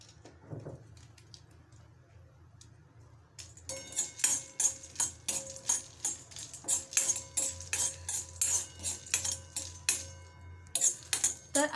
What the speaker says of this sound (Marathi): आता मी वेलची भाजून घेत आहे।